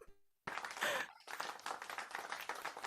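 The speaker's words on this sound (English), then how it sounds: "I love that soft clap" Soft, gentle clapping from a small audience at a live music show fills the room after a brief pause, a light scattered patter that stays steady and close.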